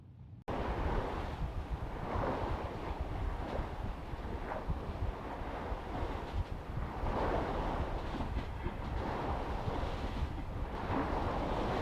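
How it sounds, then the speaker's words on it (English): Wind and waves around a sailboat heading upwind near Galicia in orca territory: a steady, loud, broad rush of surf and gusting wind buffeting the microphone, continuous throughout with no speech. "So yeah, it's nice sailing even though it's upwind."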